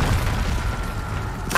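A Bombarda spell explosion in Hogwarts Legacy sets off a loud, deep booming rumble that rolls on steadily, with a brief sharper burst at the very end.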